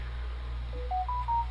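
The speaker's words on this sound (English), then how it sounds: "Sorry about the phone." A telephone keypad sends a short run of dialing tones, about four rising beeps near and clear over a steady low hum, then the line drops out abruptly.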